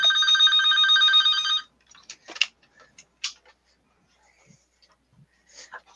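An office telephone bell rings loudly and rapidly for about a second and a half, then stops, followed by faint clicks and handling noises in a quiet room.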